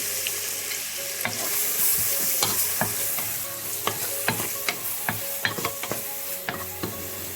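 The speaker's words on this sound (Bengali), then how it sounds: "পেঁয়াজটাকে খুব ভালো করে কষে নিয়েছি" Finely chopped onion fries in hot oil and butter, a constant close sizzle punctuated by a rapid run of sharp spoon knocks and scrapes against the pan, with no one speaking.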